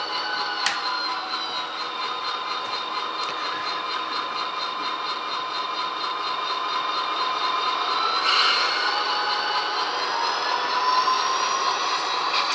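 A steady mechanical hum and whine of a running model railroad locomotive continues throughout, with a tonal drone that shifts slightly partway through.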